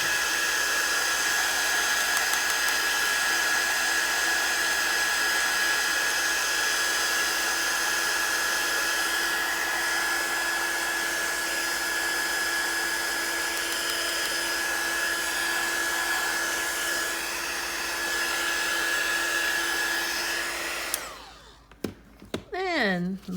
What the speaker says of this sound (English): Take my heat gun and just speed up the process.